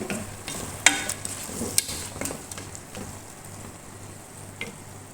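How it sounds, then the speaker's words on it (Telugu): Chopped tomatoes frying in a pan for chicken biryani, a steady close sizzle with a few sharp stirring clinks and scrapes of a utensil against the pan. "టమాటాలు వేద్దాం."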